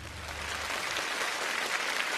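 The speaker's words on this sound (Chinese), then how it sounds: "我想现在的掌声是送给我们2位对战的选手" A studio audience at a Chinese quiz show breaks into steady applause, a dense wash of clapping that holds at an even level throughout.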